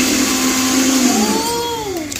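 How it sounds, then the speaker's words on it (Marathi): A kitchen mixer grinder runs loud and close with a steady motor whine, its pitch dipping and rising partway through as it keeps going. "कस वाजतो मिक्सर?"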